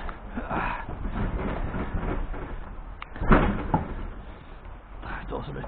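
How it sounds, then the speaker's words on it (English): A loaded double-deck HGV trailer's rear door is swung shut in a yard, landing as a single loud, close metallic clunk about halfway through, with a smaller knock after it, over a steady rumble of outdoor and engine noise. "That door's a bit tight."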